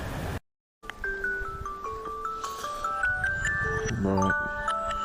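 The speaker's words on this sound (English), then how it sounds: "that's my alarm." A phone alarm goes off outdoors at night beside a river while chub fishing, playing a bright stepped electronic melody of rising and falling tones after a brief silence, fairly close and steady over low background noise.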